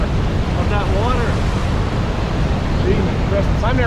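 Vernal Falls roars as a loud, constant rush of pounding water very close by, with wind buffeting the microphone and voices speaking faintly underneath.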